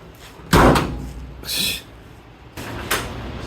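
Door of a Chevrolet square body truck swings and clunks as it hops at the hinge break point, giving a loud thud followed by a metallic rattle and further knocks, close-up.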